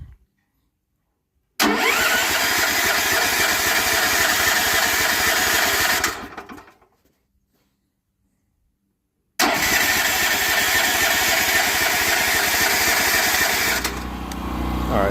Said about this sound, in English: just started the generator up.